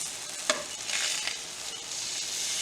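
Pork chops sizzling with pineapple on a barbecue grill, a steady close frying hiss with a sharp scrape or stir near the start and a few brief flares.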